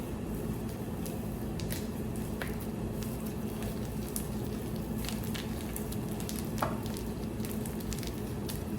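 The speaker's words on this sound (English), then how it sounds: "in the same skillet with a little of that bacon grease, we're gonna add the pan sausage." Pan sausage frying in leftover bacon grease in a skillet, a faint, even crackling sizzle with scattered pops and a brief soft clatter, steady throughout with no talking.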